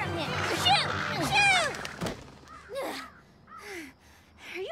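Several crows caw in harsh, repeated calls within a cartoon scene, some loud and close, others fainter, mixed with a thwacking hit and excited voices.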